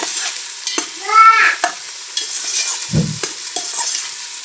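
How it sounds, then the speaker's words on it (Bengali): Meat and rice cooking together in a pot in a home kitchen, stirred with scraping utensil sounds and soft sizzling, with a few clinks and a brief louder stir partway through. "এই যে আমি রেডি করতেছি মাংস আর চাল একসাথে"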